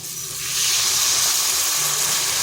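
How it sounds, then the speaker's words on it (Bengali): Water pours into a hot pan of pumpkin and potato, setting off a loud, steady hissing sizzle that swells after a brief moment and keeps going. "এরপর এখানে দিয়ে দিচ্ছি জল।"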